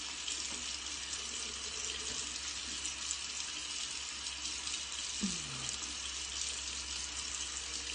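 Tap water runs in a steady, even hiss at a sink while LimeLight by Alcone skin care product is rinsed off the face and neck, continuous and fairly close for the whole stretch.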